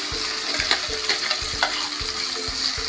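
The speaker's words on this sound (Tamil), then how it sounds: "தக்காளி நல்லா வதங்கட்டுங்க." Tomato paste sautéing in a pan for a home-style vegetable kurma after ginger-garlic, a steady sizzle broken by regular scraping stir strokes, close and continuous with no talk.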